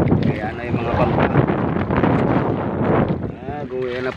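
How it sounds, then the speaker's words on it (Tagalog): Fishing boats motor across open water, a rough engine drone mixed with heavy wind buffeting the microphone, close and loud, with a voice speaking briefly near the end. "Kaya na yung mga bangka."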